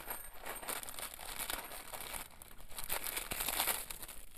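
Plastic vacuum packaging of Tie Guan Yin green tea crinkles and rustles continuously close by, with sharper crackles now and then and no voices.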